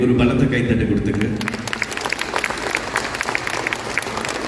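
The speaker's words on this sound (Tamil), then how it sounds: "முதலாக சகோதரர் பிரபாகரன் மித்ரா டைரக்டருக்கு ஒரு பலத்த கைத்தட்டு கொடுத்துங்க." An audience at an investment program and carnival gives a loud round of applause, the clapping starting under a speaker's voice and then continuing as a dense, steady patter of many hands.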